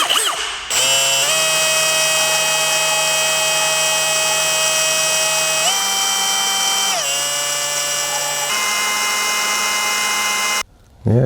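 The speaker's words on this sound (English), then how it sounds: "and I fit it inside of my drill" A power drill spinning a polishing tool on a 1/4-inch extension whines steadily at high speed for several seconds, its pitch stepping up and down slightly as the load changes, then cuts off briefly near the end.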